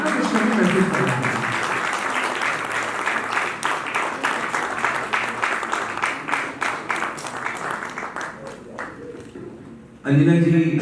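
A hall at an awards ceremony fills with loud, sustained clapping from a large audience. The applause slowly thins and fades over several seconds, and a voice cuts in at the very end.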